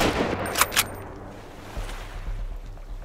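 Gunfire in the survival game Sunkenland: two quick, sharp shots in close succession, followed by softer low thuds against a quiet ocean-like background.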